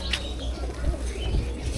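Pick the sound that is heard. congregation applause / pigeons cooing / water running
pigeons cooing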